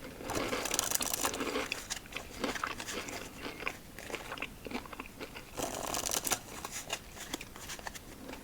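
Playing cards being shuffled close up, a soft riffling patter in repeated bursts, with quieter handling noises in between.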